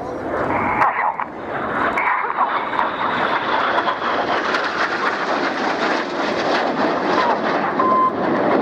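Red Arrows display jets roar overhead at an air show, a loud, sustained rushing engine sound that swells and holds as the synchro pair turn away trailing smoke.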